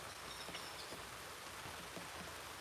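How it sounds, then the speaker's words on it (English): Steady rain falls as a continuous broadband hiss with scattered drop patters, even in level throughout and with no voices. "Another rainy day."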